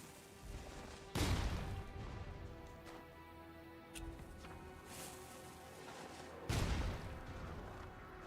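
A cannon in the video game WuChang: Fallen Feathers fires two heavy booming shots several seconds apart, each followed by a decaying rumble, over steady game ambience.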